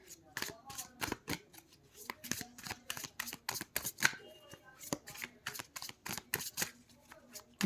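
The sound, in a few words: shuffling tarot cards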